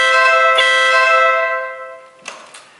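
A horn newly fitted to a Ural motorcycle gives a loud, steady blast lasting about two seconds that fades out, followed by a second brief toot.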